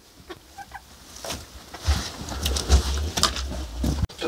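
Chickens cluck softly in the background of a farm building, scattered short calls over a low rumble of movement and handling noise.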